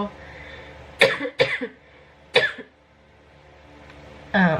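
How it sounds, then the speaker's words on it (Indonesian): Three sharp coughs in quick succession, close to the mic, the first two back to back, then another burst after a pause. "Batuk kan"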